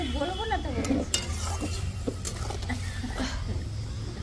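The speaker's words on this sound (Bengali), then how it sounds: "এখন এই আমাদের মাছ ভাজা" Fish fries in a pan with a soft sizzle beneath clattering utensils and pan contact, scattered clinks and stirring, with a voice briefly audible near the start.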